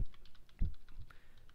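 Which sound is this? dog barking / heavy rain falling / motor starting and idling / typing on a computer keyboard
typing on a computer keyboard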